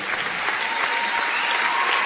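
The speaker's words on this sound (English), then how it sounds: "Everybody give yourselves a round of applause" A gym crowd at a girls basketball game, Brush at Fort Morgan, applauds loudly and steadily in a dense wash of clapping.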